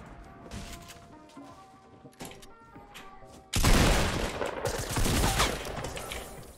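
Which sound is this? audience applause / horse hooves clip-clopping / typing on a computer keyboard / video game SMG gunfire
video game SMG gunfire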